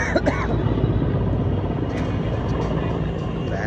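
Helicopter flying overhead after a 3 km outdoor run, a steady broad rotor and engine rumble holding loud and constant throughout, with a faint voice briefly near the start.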